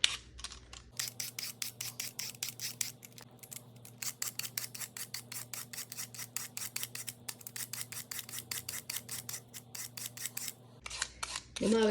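Rapid, evenly spaced knife chops of vegetables being cut over a Dutch pot while making corned beef and cabbage, a steady rhythmic run of close, crisp strikes lasting most of the time, with brief quieter moments at the start and end.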